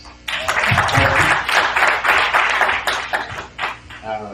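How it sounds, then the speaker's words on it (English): A crowd at a Minnesota rally for Raila Odinga's presidency claps for the MC, loud, close applause with uneven bursts, and voices can be heard through the clapping. "Let's give him a round of applause."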